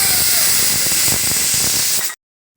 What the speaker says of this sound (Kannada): cooker whistle ಆರ್ತು